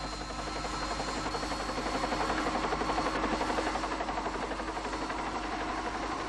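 A helicopter flies over Kluane National Park, its loud continuous rotor and engine drone steady and close throughout with no voices.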